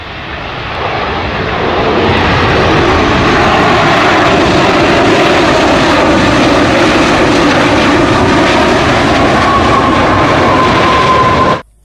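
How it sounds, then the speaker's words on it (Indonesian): Toy airplane sound effect: a loud, steady droning aircraft engine roar that builds over the first couple of seconds, holds, then cuts off abruptly. "Lihat teman-teman, ini adalah pesawat terbang."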